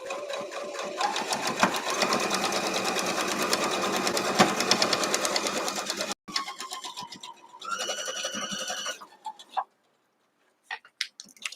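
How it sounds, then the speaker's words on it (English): A sewing machine stitches a double square quilt block, running in a steady, fast whir with ticking mechanical clatter. It stops briefly, then resumes, and ends in a few short bursts. "if you hear my machine clank, it's because somebody hasn't cleaned it recently"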